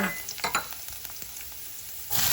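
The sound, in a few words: garlic sizzling in hot pan on high flame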